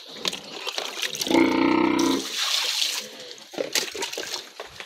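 Water pours and splashes for pigs on a farm, a gushing burst of liquid amid rustling and handling noises, close and moderately loud.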